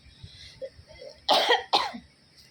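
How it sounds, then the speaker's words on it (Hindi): Two sharp, loud coughs from someone with a cold, in quick succession, close by, after a few soft breaths and small mouth sounds. "थोड़ा खांसी हुआ है"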